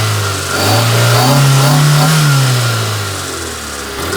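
Engine of a Proton Satria car with the airbox removed, revving up from idle, rising to a sustained higher pitch and then easing back down, loud and close with no talk over it.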